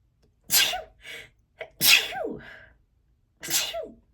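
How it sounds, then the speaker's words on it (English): Three sharp sneezes close to the mic, each a sudden burst, separated by short pauses and a quick intake of breath. "I have to sneeze."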